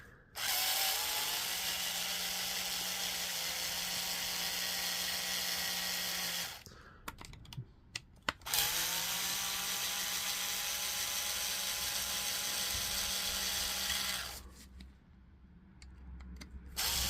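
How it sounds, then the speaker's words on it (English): A cordless power driver whirs steadily while removing four Torx TX10 screws from a DeWalt battery pack, two long continuous runs broken by a pause with small clicks and handling noises, close and fairly loud. "These 4 screws out, and that'll give us access to the top of the battery."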